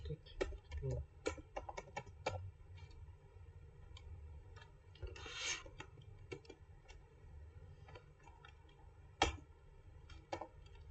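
Scattered keystrokes on a computer keyboard, some in quick bursts and others spaced apart, fairly close but quiet over a low background hum, with a louder single key strike near the end.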